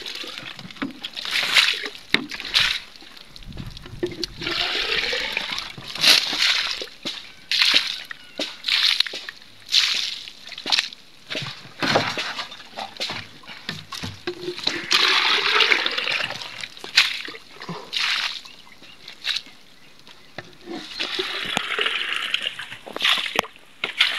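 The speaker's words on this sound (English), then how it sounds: "we are doing watering. So this is the seed bed." Water splashes and sloshes in uneven bursts as a seed bed is watered by hand, close and fairly loud with short pauses between pours.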